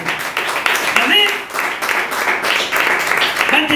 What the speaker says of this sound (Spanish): Aplaudirle fuerte.